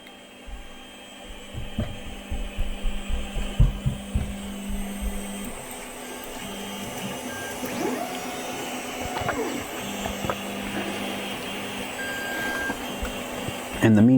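A Creality 3D printer fitted with an E3D V6/Volcano hot end starts a print, its stepper motors whirring in a steady, mid-level drone with rising and falling motor tones and a few clicks near the start.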